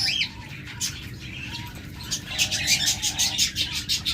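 Pet budgerigars, cockatiels, doves and lovebirds kept in cages chirp and tweet close by, with quick repeated calls that grow busier toward the end and a brief flutter of wings at the start.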